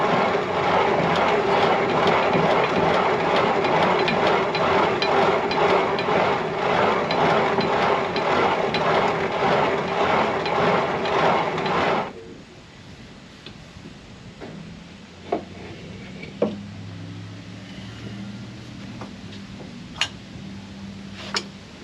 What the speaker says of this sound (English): Wheat berries are a lot harder to crank, but they grind up much quicker.